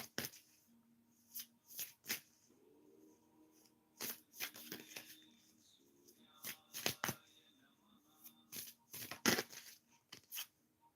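Tarot cards are shuffled in several quick riffling bursts with short pauses between them, close up, with a soft voice briefly in the background.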